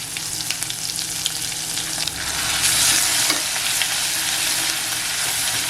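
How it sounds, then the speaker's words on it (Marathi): Ground spice paste fries in hot oil with curry leaves, giving a steady close sizzle with a brief louder hiss partway through and no talking. "वाटण मस्त असं तेलात आहे ना परतवून घ्यायचं"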